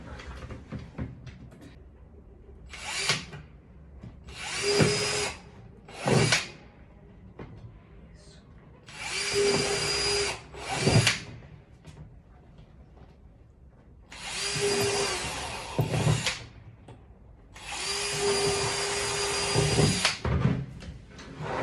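A power drill makes a small hole in a bottle-cap collector, running in several whining bursts of a few seconds each, some longer, separated by quieter pauses with faint handling sounds.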